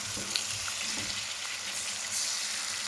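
Tomato paste and spices frying in a pan for chana masala, giving a steady close sizzle and bubbling hiss throughout with faint stirring touches and no talk.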